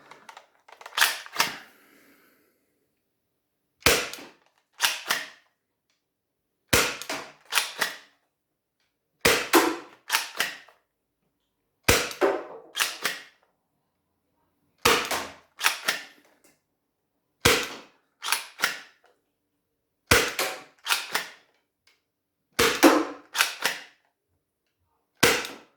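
Gecko toy blaster firing Worker Gen 3 foam darts, ten sharp snapping shots spaced a few seconds apart, each a crisp pop with a quick mechanical double click, loud and close in an otherwise quiet room.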